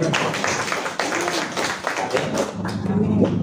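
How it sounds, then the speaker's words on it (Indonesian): A church congregation claps their hands during a sermon, a dense, loud wash of clapping that fills the room continuously, with voices underneath toward the end. "Tepuk tangan buat Tuhan."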